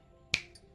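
A single sharp finger snap rings out, crisp and close, in an otherwise quiet room.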